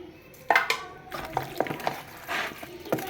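Hands mixing raw chicken with vinegar and salt in a bowl or pan for washing, giving wet squelching and soft clattering sounds in short irregular bursts, close and moderately loud, with no talking.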